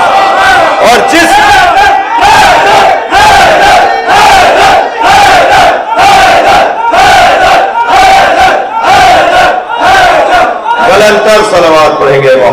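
A large crowd loudly recites salawat in unison, the chant repeating in a steady rhythm of forceful, roaring bursts roughly every second.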